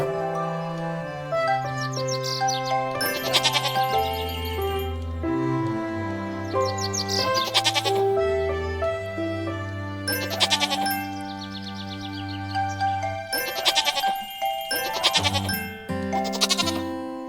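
Sheep bleat in a cute farming video game with horror undertones, heard as repeated bleats over continuous game music with bright bursts recurring through the scene.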